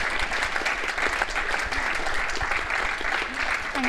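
Audience applause at a summit on England's housing and the hospital-to-home shift, steady dense clapping filling the room throughout with no break.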